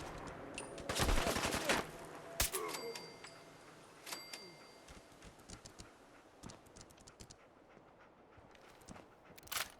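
Gunfire rings out in the video game Fallout 4: a cluster of sharp shots early on, then scattered single cracks and ticks at moderate loudness, with a faint voice heard between them.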